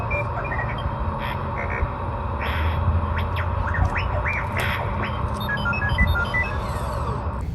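R2-D2 robot beeps and warbling chirps come from a Tesla Boombox external car speaker, a rapid string of electronic whistles and bleeps over a steady low hum, fairly loud and close.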